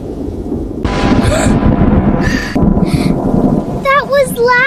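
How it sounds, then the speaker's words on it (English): Thunder rumbles loudly through a storm with heavy wind and rain, a deep sustained roll lasting several seconds, while voices speak briefly over it. "Just thunder."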